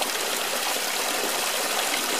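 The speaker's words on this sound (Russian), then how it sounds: "Водопадики." Water pours steadily from a small waterfall inside an underground storm-drain tunnel beneath a cemetery, a continuous close rushing splash with no voices.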